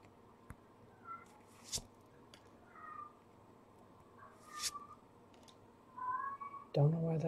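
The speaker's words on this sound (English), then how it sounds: "Don't know why that cat's meowing like that." A house cat meows several times in drawn-out calls at moderate distance, with soft clicks and handling noises between, ending in louder rustling.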